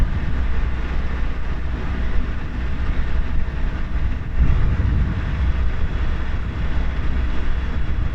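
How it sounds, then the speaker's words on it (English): A narrowboat engine on the Ribble Link runs at full power against the current, a loud, steady rumbling drone with churning broadband noise throughout and no voices. "We've got the engine going full crank, and we're going very slowly, so it's really pulling against it."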